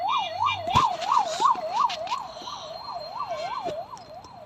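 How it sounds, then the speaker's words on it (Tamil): A wailing police siren rises and falls rapidly in a steady rhythm, fairly distant, with a few clicks and knocks nearby. "போலீஸ் சவுண்ட் கேட்குது"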